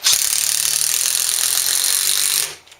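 An impact driver running a lag bolt straight down, a loud close continuous rapid hammering rattle that holds steady for over two seconds and then stops abruptly, with no talk.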